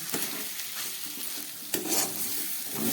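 Banana stem curry, made with tender young stem cooked until soft, is stirred in a hot pan, giving a steady sizzle with continuous scraping and spatula strokes and a sharper clatter near the middle.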